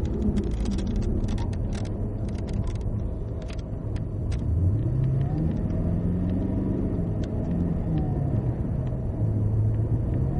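A Cadillac CTS-V engine pulls hard on a race track, its loud, rising and falling engine note running through corner braking and back onto the power, with a continuous rumble and no talking.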